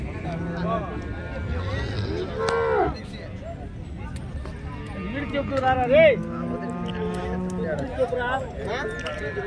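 Cattle at a Punganur dairy farm low and moo in several drawn-out calls, one rising clearly near the start and another louder mid-way, amid steady background chatter and voices of people talking nearby.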